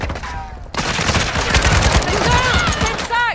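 Rapid bursts of video game machine gun fire rattle continuously after a short pause, dense and loud, with voices briefly heard over the shooting.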